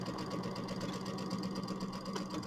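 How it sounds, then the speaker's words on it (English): A sewing machine runs steadily, stitching a quarter-inch seam through quilt fabric on a mini quilt, its motor whirring continuously and close. "we're going to sew our 1/4 inch seam"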